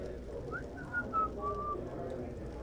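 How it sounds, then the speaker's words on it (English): Someone whistles a short, casual, wandering tune, thin and fairly faint, over a steady low background murmur. "maybe whistle a little"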